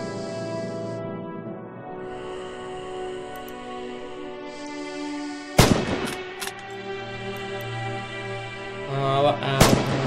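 Two loud, sharp bolt-action rifle shots in the Red Orchestra 2 Stalingrad battle game, each a sudden close crack, separated by a few seconds over a sustained musical background.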